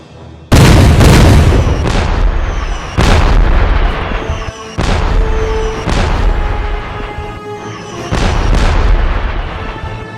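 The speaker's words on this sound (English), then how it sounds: "Now they're firing at us. Open fire on the French guns." Artillery guns fire in a battle, heavy booming blasts landing about every two to three seconds, loud and close, each followed by a rolling rumble that carries into the next.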